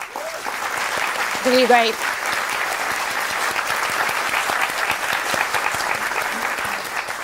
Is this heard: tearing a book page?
no